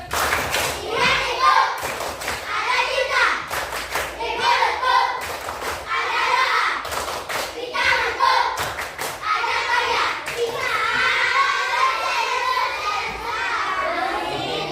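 Schoolchildren in a classroom perform a rhythmic clap chant, repeated bursts of unison claps and stamping thuds in a patterned beat, with their voices chanting along, loud and close.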